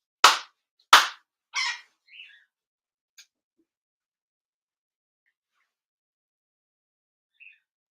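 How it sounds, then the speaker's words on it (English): Ceremonial hand claps at a Shinto end-of-year ceremony: sharp, evenly spaced claps, the first three loud and crisp and the later ones fainter, then near silence. "4 sincere claps."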